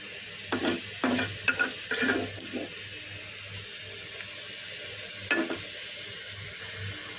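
Fried onion and chili go onto eggplant bhaji in a pan, with a low sizzle, a few clustered spatula scrapes and clinks early on, then a quieter stretch and one more clatter.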